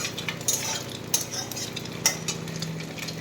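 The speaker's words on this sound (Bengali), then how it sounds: "ডিমটাকে ভেজে এগুলো চাউমিন দিয়ে দেবো" Egg and onion frying in a pan with chow mein being stirred in, a steady low sizzle under a few sharp scrapes and clinks of a utensil against the metal.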